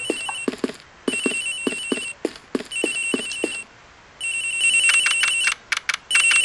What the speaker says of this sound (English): The ringing seems to be coming from up here.